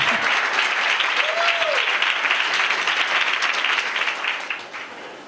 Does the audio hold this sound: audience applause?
yes